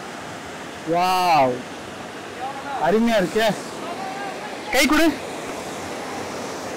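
TP Kota waterfall near Chennai pours in a constant broadband rush of falling water, heard close and steady while people talk excitedly over it in short bursts.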